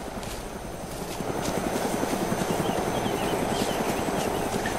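A helicopter in the video game DayZ thumps with a steady rhythmic rotor chop, fairly loud and continuous as it runs.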